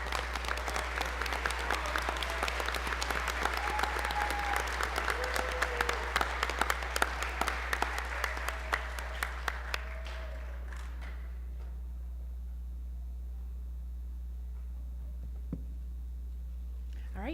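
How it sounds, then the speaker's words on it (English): An audience at a school board meeting claps for about ten seconds, a dense burst of applause that thins into a few scattered claps and then fades to quiet room tone over a steady low hum. "A round of applause."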